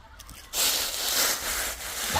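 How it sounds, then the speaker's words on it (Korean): Footsteps crunching through dry fallen leaves outdoors, a close, steady rustling crunch that swells after a quiet start and continues without talk. "이런 낙엽을 밟는 소리, 이 자연의 소리는 어떻게 이렇게 다 편안할까요?"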